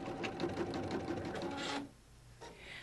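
An embroidery sewing machine stitches a design onto a shirt neckline, its rapid even chatter running close and steady before cutting out abruptly, followed by a brief softer mechanical whir.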